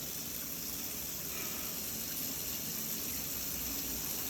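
Steady, continuous rush of water pouring from a tap, a constant broadband hiss with no pauses and no voices.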